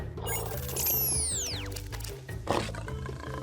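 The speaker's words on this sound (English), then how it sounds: "It's a lion." A lion roars in a children's animal soundscape of the savannah, one close, moderately loud roar mixed with sweeping synthetic sound effects and rhythmic background music.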